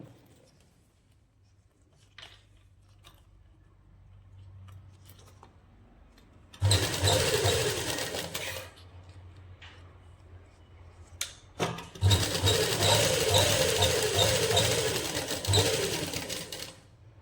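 An electric sewing machine stitches a seam on a baby boy's winter suit in two loud, steady whirring runs of about two and four seconds, with quieter handling noises in the gaps between them.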